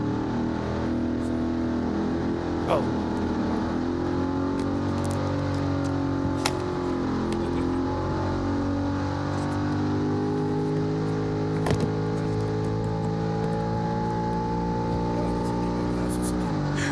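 A race car being pushed by a push truck at Bonneville at about 10 to 12 miles an hour, a steady loud engine drone with gently rising pitch throughout, close and continuous.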